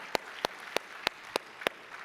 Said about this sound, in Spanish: Dale un fuerte aplauso a Él.